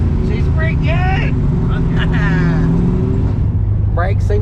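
A 1977 Datsun drives along with a continuous, loud engine and exhaust drone, while someone talks over it.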